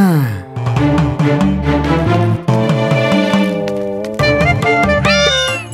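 A cat meows repeatedly in a royal court scene where it is coaxed to drink milk, giving long, wavering, drawn-out cries that stay loud and close throughout, with a rising cry near the end.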